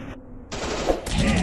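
Rapid machine-gun fire from the mobile shooter game Commando Secret Mission bursts out in dense, loud volleys, dropping briefly before resuming louder and continuous.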